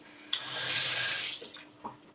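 Water gushes from a newly installed faucet mixer with a smooth-adjusting plastic body, a steady hiss that starts abruptly, runs for about a second and then cuts off, followed by a couple of faint drips.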